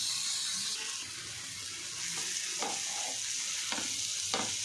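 Chicken kebabs fry on an oil-greased tawa over a low-to-medium flame, giving a continuous even sizzle with a few soft spattering bursts and light clicks.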